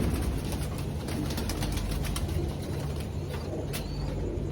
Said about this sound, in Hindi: ये देखिए, देवबंदी कबूतर और कुछ उनके बच्चे हैं।